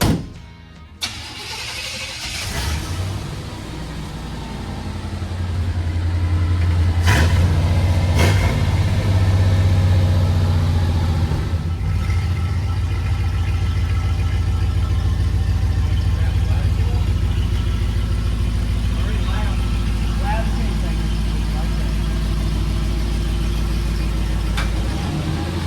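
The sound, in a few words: G30 camper van engine starting and idling after engine swap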